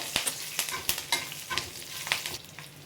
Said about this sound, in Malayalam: അപ്പോൾ നന്നായിട്ടൊന്ന് സ്റ്റിർ ചെയ്യുക